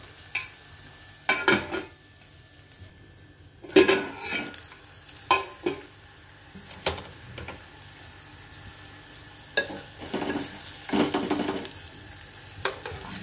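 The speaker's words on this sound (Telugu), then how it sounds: "అల్లం వెల్లుల్లి పేస్ట్, పచ్చివాసన పోయే వరకు వేగించుకుందాం." Ginger garlic paste frying in a pan, with a soft, steady sizzle broken by repeated sharp scrapes and knocks of a spoon stirring against the metal.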